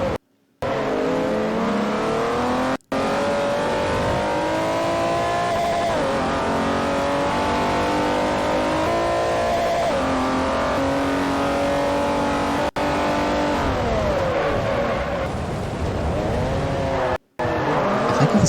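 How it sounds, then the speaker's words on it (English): A 2008 Acura ARX race car, the #26 Andretti-Green Racing entry in Forza Motorsport 4, screams loudly and almost without a break, rising and falling through gear changes with brief cuts. Tire squeal is mixed in, and no one talks. "This car screams at the high end of its torque there."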